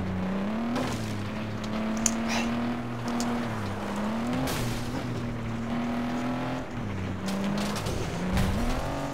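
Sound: racing car skidding in video game FlatOut 2

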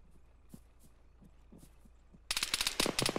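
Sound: gunfire aimed at players in the video game Arma (ShackTac)

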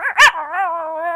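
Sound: person imitating a dog barking

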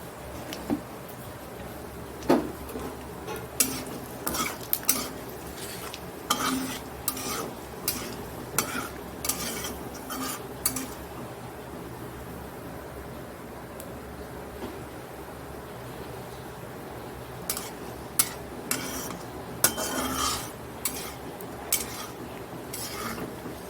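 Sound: cumin and bay leaves sizzling in hot oil, stirred

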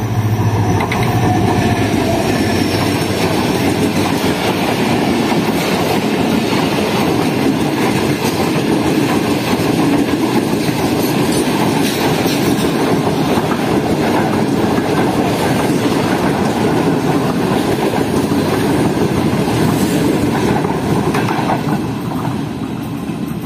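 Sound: freight train passing at speed on rails, in rain

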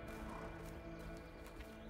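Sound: horses in a barn, video game

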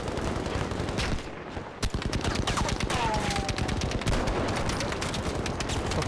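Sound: Kar98 rifle gunshots in Battlefield 5 video game

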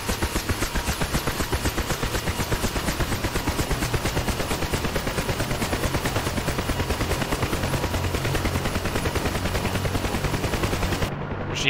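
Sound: helicopter gunfire in a video game

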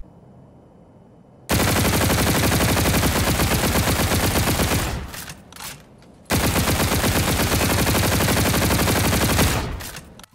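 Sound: X-EON assault rifle firing, ADS vs hip fire, video game Infinite Warfare

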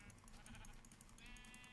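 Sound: sheep bleating in the video game Minecraft

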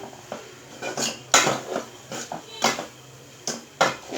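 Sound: meat being sautéed in a pot after pouring in

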